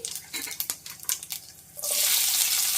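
Chopped onion and panch phoron hit hot frying oil after fish was fried, starting with scattered crackles and stirring clatter, then breaking into a loud, steady sizzle for the final second.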